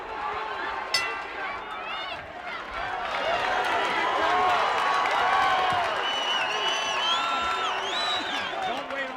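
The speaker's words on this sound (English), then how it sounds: "you got to feel this crowd is applauding him" A boxing crowd at the Phil Jackson vs Keith McKnight fight applauds and cheers between rounds. The sustained roar of clapping and shouting is loud, with whistles and voices rising above it.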